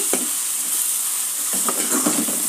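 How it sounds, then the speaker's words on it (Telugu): Egg curry (kodi guddu pulusu) sizzles steadily in a pan while a spoon stirs it, with a few scraping strokes over the constant hiss of frying, close and clear. "ఇలా వేగాలండి. ఇంకా ఒక 2 నిమిషాలు ఇలా వేసుకున్నాం."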